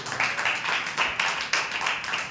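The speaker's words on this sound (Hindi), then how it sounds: "ताली बजा के प्रभु के नाम से।" A church congregation claps together in steady rhythmic unison, a bright repeated patter of many hands at a moderate, even pace, close and fairly loud with no voices over it.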